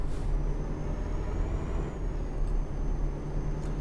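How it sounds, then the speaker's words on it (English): A heavy truck in Euro Truck Simulator 2 slowing for a toll booth, a steady low engine and road drone with a faint thin whine above it. "I'm going to get on the brakes, I'm not going to make that."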